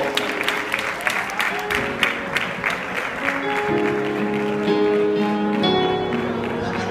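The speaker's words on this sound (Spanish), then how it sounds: "Un fuerte aplauso al Señor." Audience applauding at a church concert, a continuous wash of clapping from a crowd with sharper individual claps early on, while sustained musical tones carry on underneath.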